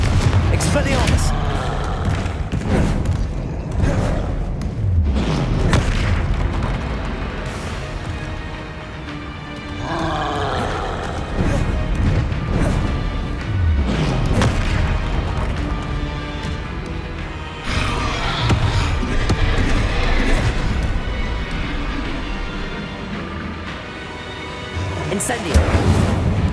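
Spell effects from the video game Hogwarts Legacy, with fiery Incendio and explosive Confringo blasts and Expelliarmus casts, booming and roaring loudly in repeated bursts with a voice calling out over the combat.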